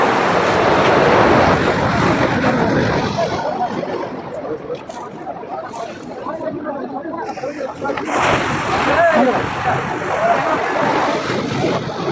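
Sea waves washing over slippery rocks at Digha Mohona, with a steady rushing surf and wind buffeting, and voices talking in the foreground.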